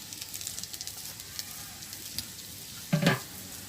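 Whole garlic cloves, cumin seeds and a few radhuni seeds frying in hot oil in a village kitchen, a steady soft sizzle throughout that swells into a louder burst of crackling near the end.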